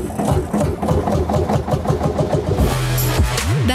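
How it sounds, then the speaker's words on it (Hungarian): A restored 70-year-old tractor engine, now in perfect condition, idles with a deep, steady, rhythmic thumping. It is loud and close, with no voices over it, and the beat shifts slightly toward the end. "csak a kedvünkért hozza ki, hogy meghallgathassuk a legendás öblös huppogást"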